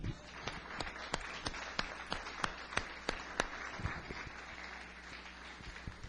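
A church congregation claps in a quick, rhythmic beat, sharp individual claps standing out over a quieter, distant room ambience before tapering off.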